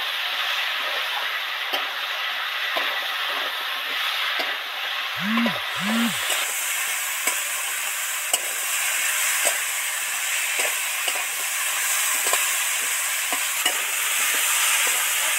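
Potatoes frying in oil with turmeric and chili, stirred continuously, giving a steady close sizzle broken by repeated scraping strokes of a spatula against the pan, plus two brief low tonal blips midway.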